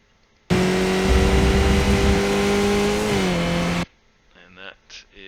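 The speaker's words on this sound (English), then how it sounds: "Back on full throttle, and then just running up through the gears" A Skip Barber race car engine on the Mid Ohio circuit in the iRacing game roars loud and steady at full throttle, its pitch dropping briefly at a gear change, before cutting off abruptly as a voice talks.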